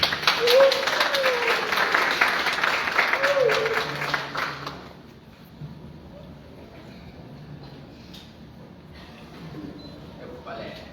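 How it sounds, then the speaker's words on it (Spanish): At a school recognition event, a crowd claps loudly for about five seconds, then the applause cuts off, leaving quiet room noise and a few faint sounds. "Muy fuertes los aplausos."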